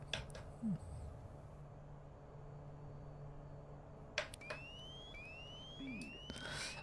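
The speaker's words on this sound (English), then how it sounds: "And what you directly hear is alarms, because we're going too fast, right?" Overspeed warning in a Pilatus PC-12 cockpit as flaps drop: repeated rising electronic tones sweep upward in short bursts over a steady engine drone, with a couple of sharp clicks nearby.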